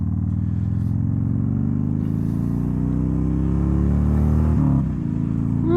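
Motorcycle engine droning steadily while riding on a cold day, a continuous loud low rumble with a slight pitch shift near the end as the throttle changes.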